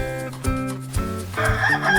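A rooster crows in a drawn-out cock-a-doodle-doo, loud and close, with a sung melody running alongside it.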